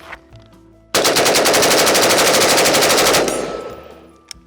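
A rifle fitted with a Wide Open Trigger fires one long, unbroken burst of very fast, evenly spaced shots, loud and close, that stops abruptly after about two seconds and leaves a ringing tail.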